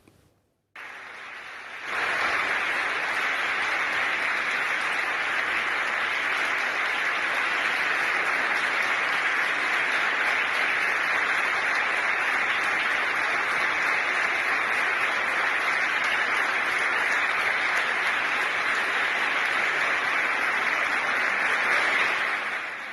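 Sustained applause from a large crowd in Madrid greeting the chief prosecutor, a dense, even wash of clapping that starts abruptly and holds steady for the full length without speech.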